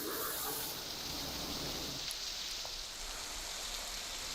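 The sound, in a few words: heavy rain falling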